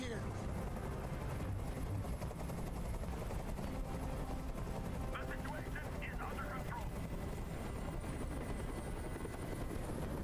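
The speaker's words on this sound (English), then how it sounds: "I can't stand that noise anymore! Tell that helicopter to get out of here!" A hovering helicopter in the video game Detroit: Become Human gives a loud, steady, continuous rotor roar that fills the whole clip, with faint higher sounds layered over it.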